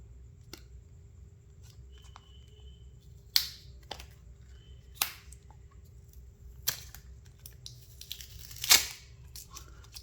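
Soft tearing, rustling and scattered sharp snaps come from a Motorola Edge 60 Fusion phone box as its packaging is opened up close, spaced across a quiet room with a low background hum.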